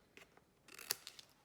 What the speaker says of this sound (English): we can just use our scissors and just trim off